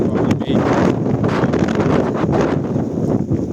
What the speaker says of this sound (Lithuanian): Tokio vėjo. Vėjai.